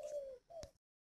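A spotted dove gives two soft, fairly close coos, a longer note followed by a shorter one, then silence.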